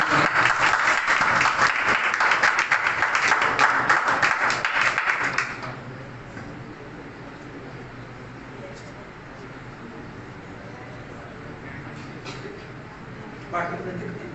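A church congregation claps steadily during a sermon for about five seconds, then the clapping stops and gives way to a quiet room with a few faint knocks.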